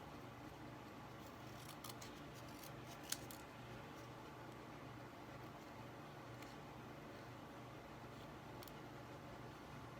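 Quiet, repeated snips of scissors cutting through faux leather, a few sharp crisp cuts spaced irregularly over a low steady background hum.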